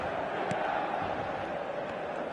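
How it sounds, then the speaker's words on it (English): The crowd at the San Siro football stadium, a steady, dense roar of many voices filling the air at constant loudness, with no single voice standing out. "Red and black wherever you turn, the San Siro is buzzing."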